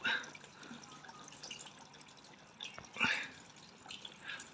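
Water running through the flushed water-pump hose of a Benelli BN600i motorcycle, heard as faint, intermittent splashes and drips with brief louder bursts over a quiet background.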